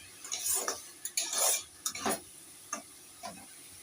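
Spices frying in oil in a pan for a Bengali fish jhal are stirred with a utensil, giving a series of close scraping, sizzling strokes in irregular bursts separated by short quiet gaps.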